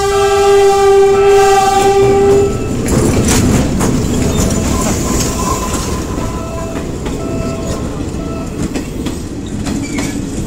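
A train rumbles past at close range by a station in Manila, the Philippines, its horn sounding for the first couple of seconds, followed by steady clattering of wheels on rails.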